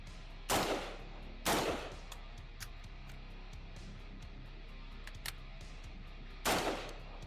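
Three loud rifle shots ring out at a shooting range, spaced unevenly with a longer gap before the last. Each is a sharp crack followed by a short echoing tail, with small clicks and handling noises in between.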